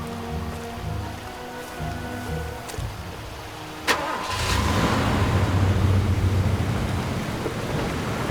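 A car drives in the video game Far Cry 2. Game ambience gives way to an engine starting with a sharp thump, followed by a steady, loud engine rumble with no speech.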